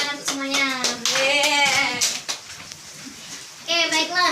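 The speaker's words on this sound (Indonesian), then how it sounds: "Tepuk tangan untuk semuanya." Fifth-grade students clap their hands in a primary-school classroom during a religious education lesson, with bright, scattered claps mixed with children's voices and close, lively group speech running throughout.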